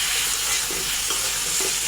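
Potato pieces fry and get stirred with ground coriander, salt and other spices in a pan with a splash of water, made for a kachki fish curry; a steady, close sizzle with faint scraping from the stirring.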